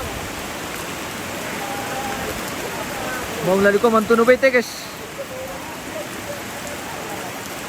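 Steady rain falls throughout as a constant wash of hiss at an outdoor gathering, with someone briefly speaking over it midway.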